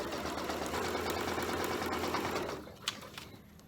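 A sewing machine stitches a quilt block seam with a steady, fast mechanical whir that runs for about two and a half seconds, then stops, leaving quiet room tone and a few small handling clicks.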